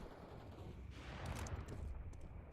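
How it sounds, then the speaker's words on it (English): A flashbang grenade goes off in a video game, a sudden broad blast that swells around the middle and then settles into a low rumbling wash, with no talk over it. "Throwing flashbang."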